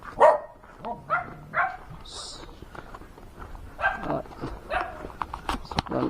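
A dog barks in short, sharp bursts while chasing along a trail on the way to Busay Falls in Gasan, Marinduque. The barks are close and irregular, and people talk around them.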